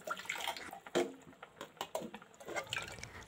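Hot water is poured into cooked mung dal inside a pressure cooker, giving soft, intermittent splashing and trickling bursts, fairly quiet and close, with brief gaps between pours.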